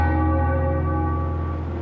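A church bell tolls on the eleventh hour of Remembrance Day in an Australian city, one rich, sustained ringing strike that hums on and slowly fades, heard alone without voices.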